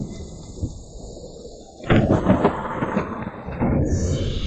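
Thunder for a lightning tribulation: a heavy rumbling crash breaks in partway through and rolls on in a loud, sustained roar over a steady, droning background.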